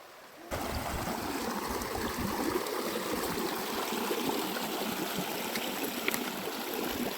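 A river flows steadily with a constant, close rushing and gurgling wash that begins abruptly and continues unbroken, heard outdoors while shrimp are being gathered from the river.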